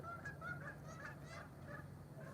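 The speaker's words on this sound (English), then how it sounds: "But can you hear the ducks?" Ducks at a lake call faintly in the distance with repeated nasal honks and quacks over a steady outdoor background hum.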